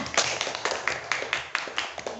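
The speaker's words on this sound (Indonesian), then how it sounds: "Tepuk tangan." Students in a primary school classroom clap their hands together in a quick, fairly even rhythm of sharp claps, quiet and close, with no talking.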